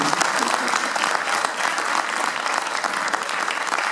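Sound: audience giving giant applause

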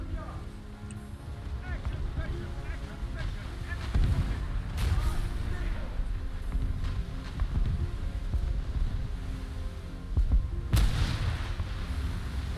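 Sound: gunfire in a video game

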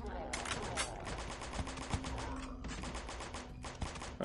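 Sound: gunfire from shooters in the flash game Dead Zed

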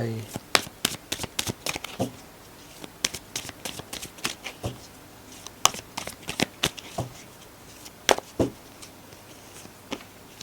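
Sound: shuffling cards for a card reading

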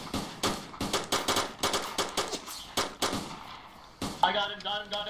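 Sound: gunfire in the video game DayZ

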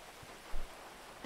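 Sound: rain, from a video game

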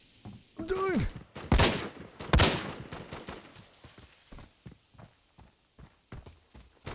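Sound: gunfire in the video game Arena Breakout

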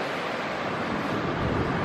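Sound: wind blowing by the ocean

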